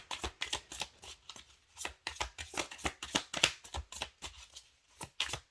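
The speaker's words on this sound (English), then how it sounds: "we're searching for a specific card again as we're shuffling the long shuffle" Tarot cards are shuffled in a long shuffle, a quick series of crisp papery riffles and taps in close, uneven bursts.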